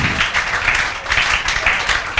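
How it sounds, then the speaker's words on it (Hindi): Classroom applause from students at a coaching class for a top-ranked student, dense steady clapping for about two seconds with no talk over it. "बजाओ तालियां इनके लिए, बजाओ"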